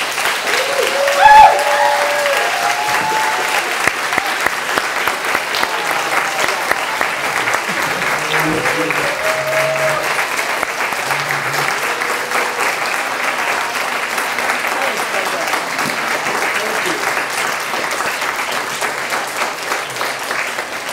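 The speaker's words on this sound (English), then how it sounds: "Give them a round of applause." Steady audience applause after the final round of a national high school debate championship in China, a continuous even patter of many hands that holds throughout, with faint voices briefly audible beneath.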